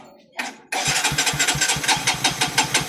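A Kawasaki CT125 motorcycle with a weak battery is cranked on its electric starter: a brief whir, a pause, then a loud, steady chugging crank with rhythmic pulses, close by.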